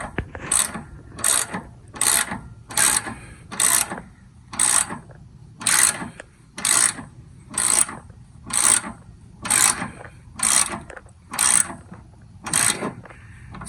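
A torque wrench clicks through about a dozen rapid ratcheting strokes while tightening a front shock bolt on a Chevy Silverado, each burst sharp and close, in a steady rhythm with brief pauses between strokes.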